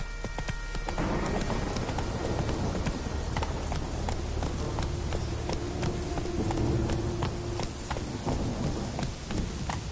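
Roach the horse gallops in The Witcher video game, a rapid steady run of hoof clip-clops, close and loud over a dense rushing wind-and-ambience bed, with no speech.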